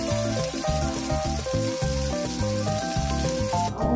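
Samgyeopsal pork belly sizzles in a pan with a continuous crackling hiss, partly buried under loud, tuneful background music.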